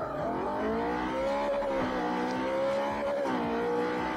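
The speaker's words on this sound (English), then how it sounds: "We're going to accelerate down to the last corner, braking, turning in, full on the throttle" A Subaru STi in Forza Motorsport 4 powers through a corner, its engine note rising and falling as it brakes, turns in and comes back on the throttle, with faint tire squeal near the end.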